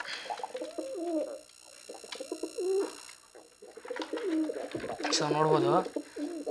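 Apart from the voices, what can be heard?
pigeons cooing near nest with egg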